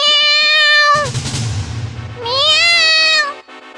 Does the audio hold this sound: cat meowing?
yes